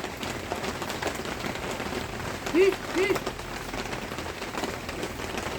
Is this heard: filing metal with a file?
no